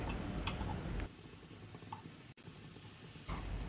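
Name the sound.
bananas being turned in a pan of melted jaggery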